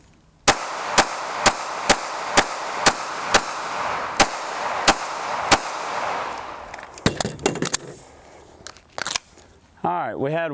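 A string of pistol shots at shooting practice: about a dozen sharp, loud, evenly spaced reports fired in quick rhythm, followed by clatter and someone speaking.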